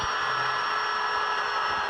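A KEELAT 3-in-1 impact drill running at high speed while drilling, giving a steady, loud high-pitched whine that holds constant for the whole short stretch.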